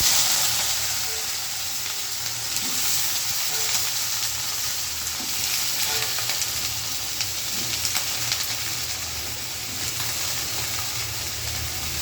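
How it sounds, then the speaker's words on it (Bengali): Vegetables frying in a pan while cooking boal fish, a steady loud sizzle and hiss throughout with faint stirring scrapes, close up and with no talk. "এখন যে সবজিগুলো দিয়ে দিব।"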